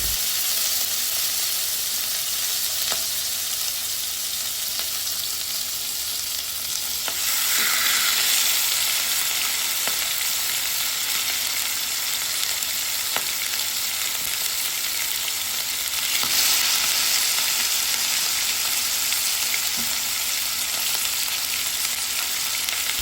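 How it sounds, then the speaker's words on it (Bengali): Marinated chicken fries in hot oil in a wok for a homemade grill chicken recipe, a loud, close, continuous sizzle that swells in two bursts with a few faint clicks and no talking. "গরম হয়ে আসলে এর মধ্যে দিয়ে দেব মাখিয়ে রাখা গোস"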